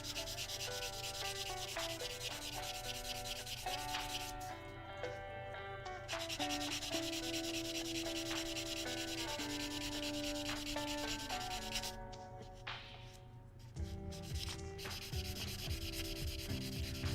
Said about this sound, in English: Sand things down.